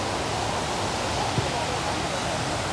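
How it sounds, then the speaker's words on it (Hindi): The Ghatarani waterfall gives a continuous, even rush of falling water that fills the whole short stretch with steady broadband noise. "और एक झरना है, मैं आप पहले दिखाती।"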